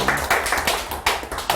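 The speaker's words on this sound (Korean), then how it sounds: "여러분 모두에게 박수 한번 보내주실까요?" Audience at a speech leadership executive course applauds a newly introduced member, a short burst of claps with rhythmic louder peaks from a small group, fairly close and without talk.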